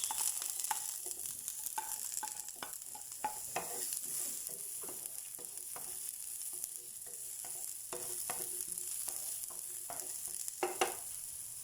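Onion sizzles softly in a pan while being stirred, with a steady high frying hiss and repeated scraping clicks of the utensil at an irregular rhythm, close and fairly quiet with no talking.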